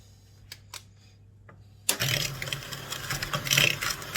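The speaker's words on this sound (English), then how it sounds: "you can use an electric hand whisk, which simplifies the job so much easier" An electric hand whisk beating butter and sugar for banana bread switches on after a few light taps, then runs as a continuous close whirring buzz that fluctuates slightly as it churns, with no voices.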